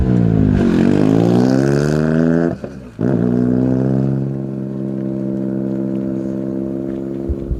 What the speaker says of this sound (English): Listen to this car as it pulls off.